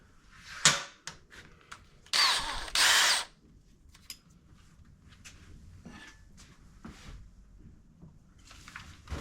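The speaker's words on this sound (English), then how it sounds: "we're going to go straight down and drill through that bolt straight down through the middle" Two short, loud bursts of a power drill biting into a steel bolt on a Toro Timecutter zero-turn mower, close by, surrounded by quieter clicks and tool handling.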